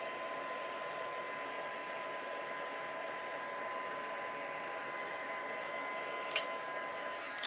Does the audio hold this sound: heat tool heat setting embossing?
yes